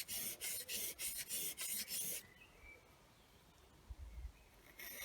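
A flat blade rasps back and forth to take off the burr in quick, evenly spaced strokes, about seven of them, close and crisp, followed by quiet room noise.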